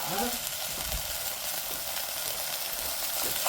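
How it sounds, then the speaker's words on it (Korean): Kimchi stir-frying in sesame oil in a pan for kimchi stew, giving a bright, even sizzle that holds steady throughout, close and moderately loud, with faint stirring movement underneath. "자, 참기름에 김치를 볶습니다."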